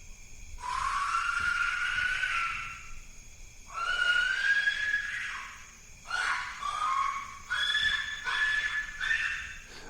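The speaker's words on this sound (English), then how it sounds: "a raw file of an Aztec death whistle, which is the sound you may or may not have just heard" Aztec death whistle blown in several long, shrill, wavering shrieks, like a human scream, each lasting a second or two with short gaps between, loud and alone.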